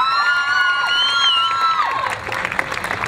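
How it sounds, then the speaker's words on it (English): A crowd at the Light the Night charity walk in Philadelphia cheers and whoops loudly, with applause, shouts and cheering voices rising together, then the noise thins out into scattered claps and calls. "We'll give a round of applause to Carol."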